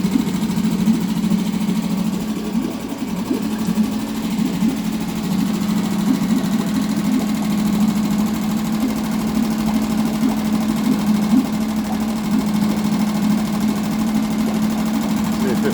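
A Mariner 3.5 outboard engine runs steadily at close range, giving a continuous low buzzing drone with a rapid, even putter and no pauses for about sixteen seconds.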